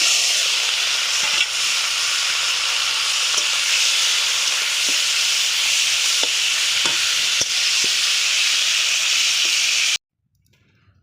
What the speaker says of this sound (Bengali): এবারে কড়া গরম হলে আমি মাছের মাথা চিংড়ি মাছটা ভেজে নেব।